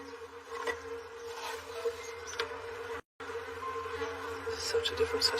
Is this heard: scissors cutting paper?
no